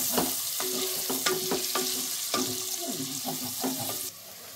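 Two thinly sliced onions dropped into hot oil in a pot for veg brinji rice, crackling and sizzling steadily with several stirring clinks and scrapes, close by, before the sizzle eases near the end.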